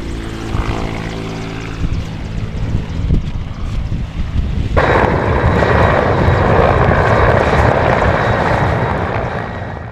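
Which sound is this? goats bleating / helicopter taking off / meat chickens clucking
helicopter taking off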